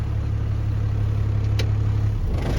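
A truck engine idles with a steady low rumble throughout, close and constant, with a faint click partway through and a slight change in the hum near the end.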